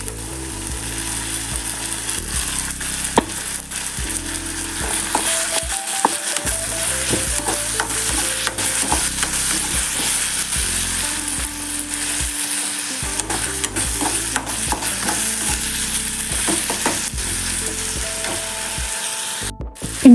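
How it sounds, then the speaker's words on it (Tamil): Ginger garlic paste fries with onions in a pan for mutton liver varuval, a steady loud sizzle broken by repeated scraping of a spoon stirring, with no one talking. "இஞ்சி பூண்டு பேஸ்ட் நல்லா வதங்கிருச்சு."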